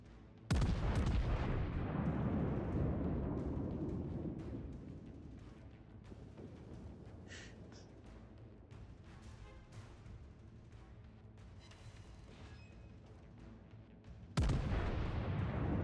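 The USS Missouri battleship's main guns fire a salvo in World of Warships, a loud deep boom that rolls into a long fading rumble, followed by a second heavy blast near the end.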